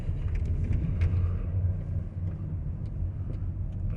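A Range Rover Sport 3.0 SDV6 diesel rolls slowly back to its parking spot after a blocked particulate filter was cleaned, giving a steady low engine rumble close by with faint ticking above it.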